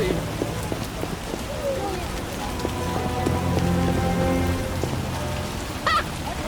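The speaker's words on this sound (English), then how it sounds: "A scourge of the Lord's this rain." Steady rain falling in The Witcher Enhanced Edition video game, a constant hiss of drops on surfaces with soft, low background tones and faint game ambience underneath.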